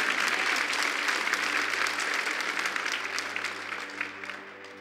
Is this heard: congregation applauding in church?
yes